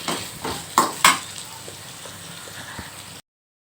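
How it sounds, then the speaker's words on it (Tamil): Green mango for chutney being sautéed in a pan, heard as a few clattering spatula scrapes and clinks over a faint, steady sizzle, close up. "இப்போ இது நல்லா மாங்காய் நல்லா வதங்கணும்."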